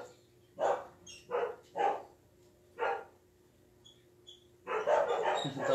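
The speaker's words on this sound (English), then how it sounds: "Those are my border collies barking now." Border collies bark in a run of four separate sharp barks, then a longer burst of overlapping barking, close and loud against a quiet background with a faint steady hum.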